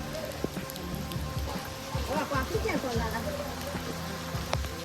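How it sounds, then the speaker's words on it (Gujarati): Steady rain pattering across a surface, a dense continuous hiss with scattered heavier drops, moderately loud throughout. "ભારે વરસાદ ચાલુ થઈ ગયો દોસ્તો ધીમો ધીમો ધીમો"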